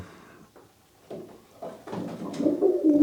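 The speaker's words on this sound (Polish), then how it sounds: "Będzie to gołąb o numerze 7157." Soft, low pigeon coos repeat close by, growing a little louder toward the end, with faint rustling in the background.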